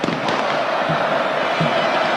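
Red Star Belgrade supporters, the Delije, celebrate a first goal in a Yugoslav Cup final at Belgrade's Marakana stadium amid fireworks; a dense, continuous crowd roar fills the space with a few sharper bursts rising through it.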